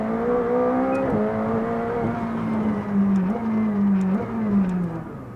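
A sports car pulls hard in first gear, the engine note climbing in repeated rising sweeps with brief dips between pulls, loud and steady from inside the car without talk.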